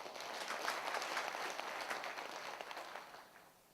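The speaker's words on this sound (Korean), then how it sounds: "다시 한번 박수로 격려해 주십시오." Audience at a founding ceremony for a commemorative society clapping in encouragement for a student speaker, dense applause that holds steady and then tapers off toward the end.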